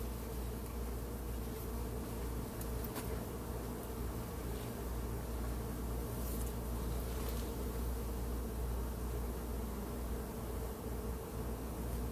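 Dense, steady hum of many honeybees buzzing around an open hive during a weekly checkup and feeding, continuous and fairly close with no talk.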